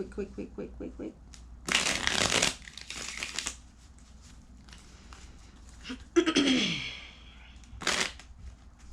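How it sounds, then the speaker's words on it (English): Cards are riffled in quick bursts of crisp fluttering, several shuffles with soft talk and handling noises between them. "let me go ahead and do a little quick shuffle right quick"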